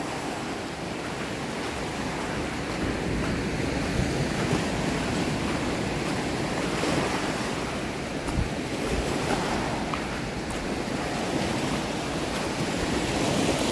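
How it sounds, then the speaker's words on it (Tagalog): Rough surf pounds the white sand beach at Pagudpud's Blue Lagoon in a steady, unbroken roar, with wind buffeting the microphone throughout and no voices over it. "Nagngangalit kasi yung alon niya eh."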